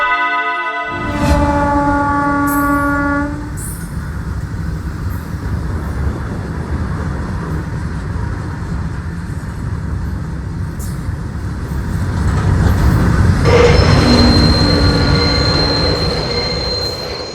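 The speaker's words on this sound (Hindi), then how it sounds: "ऊपर से ये ट्रेन भी काफी लेट आई है।" A train arriving at a station at night, its wheels squealing in long high tones as the cars roll in, with a continuous rumble of rail wagons that swells louder toward the end.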